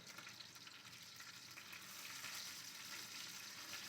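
Bone-in chicken thighs frying in a pan, a faint, continuous sizzling hiss that swells slightly toward the end as the pieces are turned.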